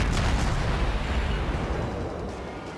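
A dense, rumbling barrage of incoming naval shellfire and explosions in World of Warships, a continuous loud roar of overlapping booms that fades slightly toward the end, with no voices.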